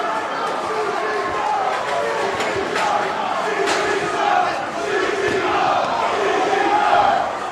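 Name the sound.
wrestling crowd cheering as Drake Younger enters the ring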